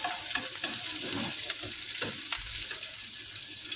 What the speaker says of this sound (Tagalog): magigisa na tayo dyan ng bawang sibuyas